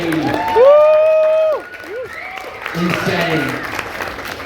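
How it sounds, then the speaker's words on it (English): Audience applause and scattered cheers at a songwriters' round, a loud sustained wash of clapping with a host's voice speaking over the start. "Big round of applause again, please."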